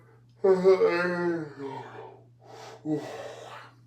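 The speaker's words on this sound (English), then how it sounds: "I just had to yawn for a second" A tired man yawns alone, close to the mic: a long drawn-out breath that rises and falls over about a second, then a shorter, breathy exhale-like second part, with a steady low hum beneath.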